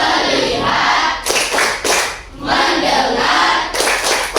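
A classroom of students does a rhythmic focus clap, with many hands striking together in repeated bursts separated by brief pauses, loud and close, with group voices mixed in.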